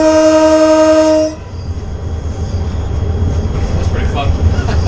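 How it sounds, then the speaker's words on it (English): A loud, steady train horn blast sounds for over a second, then cuts off, leaving the low rumble of a moving train. "Sound that whistle again."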